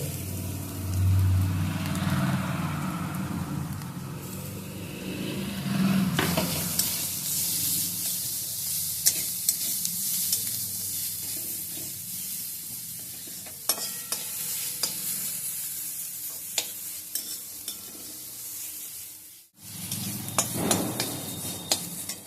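Grated carrot with ginger stir-fried in a pan for a momo filling, a continuous sizzle with repeated scraping and clacking spatula strokes, close and busy, briefly dropping out before the frying resumes.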